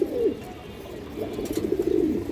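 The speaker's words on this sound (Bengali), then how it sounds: "একজোড়া জাগ কবুতর" A pair of Jag pigeons coo close by, their low rolling calls repeating steadily against faint background hiss.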